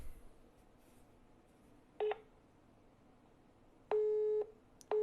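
Telephone busy signal after placing a call from a phone: faint background hiss, then a short tone burst followed by a longer steady beep and the start of another, spaced in a broken rhythm with no talking.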